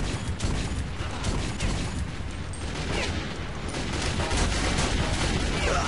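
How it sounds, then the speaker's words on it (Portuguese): Automatic machine gun fire in the video game Metro 2033, a dense, loud, continuous rattle of shots with mechanical clatter filling the whole stretch, with no voices. "Tá usando metralhadora pra cara não gastar uma bala"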